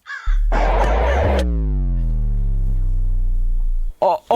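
A crow caws in the Minecraft video game, a loud harsh call that sounds close and stands alone, briefly overlapped by other game noise.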